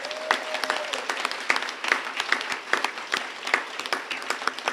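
Applause from a school assembly crowd honoring elementary award winners, a steady patter of many hands clapping with sharp individual claps standing out, moderately loud and continuous throughout.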